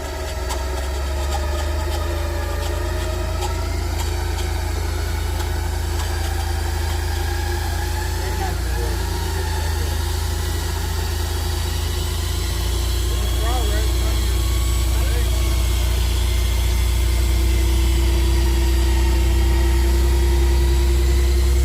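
An off-road vehicle engine runs loud and steady during winching on the Ozark Overland Adventure Trail, with a constant low rumble and drone that shifts slightly in pitch and continues throughout.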